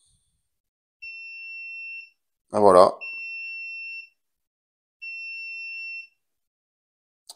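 Three steady electronic beeps from a SUNLU filament connector reaching temperature, each about a second long and evenly spaced, with a short spoken exclamation between the first and second.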